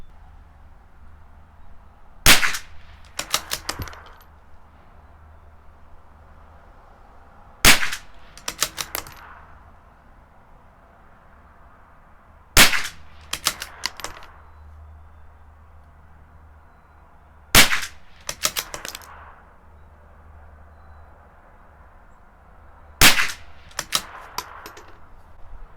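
A CZ 457 rifle fires Eley Tenex rounds at 50 yards, five sharp, loud cracks spaced about five seconds apart, each followed by a quick clatter of bolt cycling.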